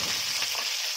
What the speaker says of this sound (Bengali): এই ধরেন অনেক একদম আমাদের ভাজা হয়ে গেছে।